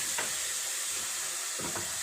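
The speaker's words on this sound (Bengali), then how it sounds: "ফুলকপি কিশমিশ সব ভাজা হয়ে গেল।" Continuous oily sizzle of cauliflower and raisins frying in a pan, with a few soft stirring scrapes and no talking.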